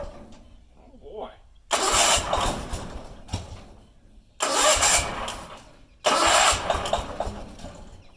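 A Bolens QT16 lawn tractor over ten years old cranks in three loud, close bursts with pauses between them, the engine catching roughly and sputtering at each attempt.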